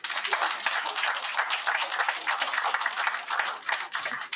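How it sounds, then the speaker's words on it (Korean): Steady applause from a crowd at the opening of a provincial governor candidate's campaign office, a dense wash of many hands clapping that runs the whole time without a break. "박수 한번 쳐주십시오"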